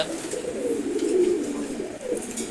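Male pigeons, including a red checker racer, give a close, soft, throaty coo that rises and falls over a couple of seconds.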